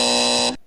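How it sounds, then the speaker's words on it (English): A game show buzzer blares once, a loud, harsh, steady electronic tone lasting about half a second before cutting off abruptly into silence. "He gets a buzzer on that one."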